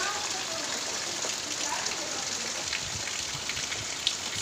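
Heavy rain pours steadily outdoors amid lush green surroundings, a dense continuous hiss of drops on surfaces with no break, with a single brief sharper tick near the end.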